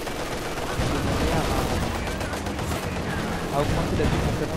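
Gunfire in the strategy game Company of Heroes 2 during a Soviet NKVD rifle battle, a dense, continuous crackle of shots and bursts over about four seconds with no clear pauses.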